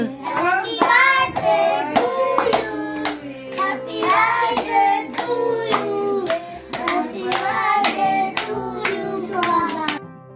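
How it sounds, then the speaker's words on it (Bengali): Hands clap repeatedly at a birthday celebration, sharp claps running through nearly continuous voices that carry strong melodic, sung tones, steady and close throughout. "অনবরতরা হাততালি দিয়েই চলেছে।"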